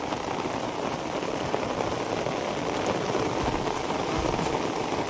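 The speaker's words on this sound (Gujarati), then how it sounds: "વરસાદ પણ સારો ચાલુ થઈ ગયો છે" Steady heavy monsoon rain in Palitana, Bhavnagar, pours down in a continuous, even hiss, close and fairly loud, with no voices or other sounds breaking through.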